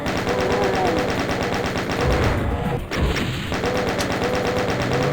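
Chaingun fire in Doom 2 rattles as a rapid, steady stream of loud shots for the whole stretch, with a brief heavier impact midway.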